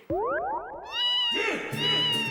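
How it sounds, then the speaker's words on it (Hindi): Cat-meow message tone playing from a mobile phone: a few rising, sliding electronic meows with a springy boing quality, close and fairly loud, with no talking. "मेरे मोबाइल में बिल्ली की आवाज रखी तो"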